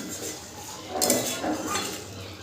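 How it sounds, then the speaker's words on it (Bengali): A metal lid is lifted off a pot of paneer and potato gravy, giving a few close clinks and scrapes of metal on metal, with no talk. "5 মিনিট পর আমি ঢাকনাটা খুলবো।"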